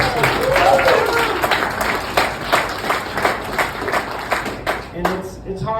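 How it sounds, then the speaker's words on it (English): A graduation crowd applauds a departing staff member with steady, moderately loud clapping that claps on evenly and fades out near the end, with a voice heard briefly at the start. "So another round of applause for"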